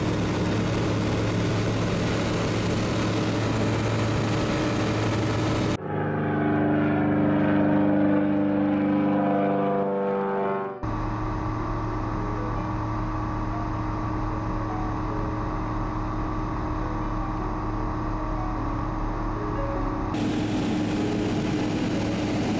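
Experimental light aircraft engine running at high power on departure from runway 22 at Nogales, a loud continuous drone with a steady tone that shifts briefly partway through, heard from inside the cockpit.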